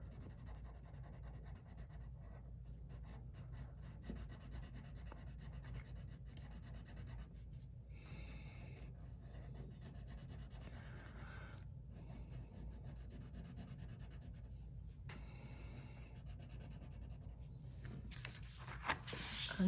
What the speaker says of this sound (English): I'll keep my red out and color this in right here.